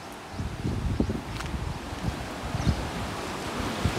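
Water released from the Bhadra dam rushes through a tunnel canal near Hiremallali, Channagiri, as a steady broadband roar with wind buffeting the microphone and no voices.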